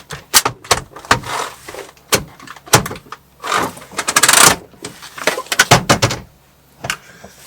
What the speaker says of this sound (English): if I mess about with my chair